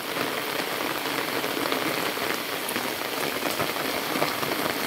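Heavy rain pours steadily onto a village yard, a dense, continuous hiss of drops with no gaps and no voices.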